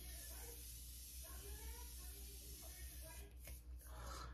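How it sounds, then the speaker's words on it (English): Morphe Continuous Setting Mist sprays close up as a soft, steady hiss with a few brief bursts, heard under faint room noise. "I'm gonna set everything with Morphe, which I have not used continuous setting mist."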